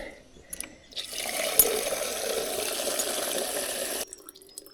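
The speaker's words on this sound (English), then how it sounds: "filter my water every morning from the tanks here, which have fresh rainwater in it" Rainwater runs from a tank tap in a steady, close hiss for about three seconds, then cuts off abruptly, with a few faint clicks and knocks before and after.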